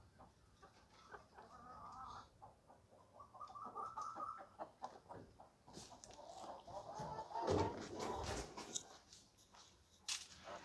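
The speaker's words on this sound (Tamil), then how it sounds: "நம்மளோட கிளிமுக்கு விசிறிவால் கோழிங்க மட்டும்தாங்க வச்சுருக்கேன்." Parrot-beak fan-tail chickens, a rooster kept with four hens, cluck and cackle close by in a run of irregular calls, growing busier and louder midway with a sharp burst of squawking, then settling into softer clucks.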